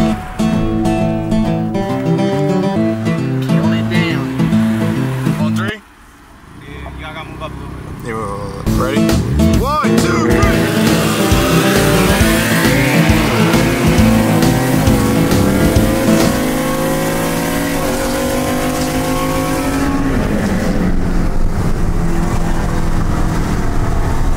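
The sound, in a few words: sleeper Ford F150 truck racing a VR30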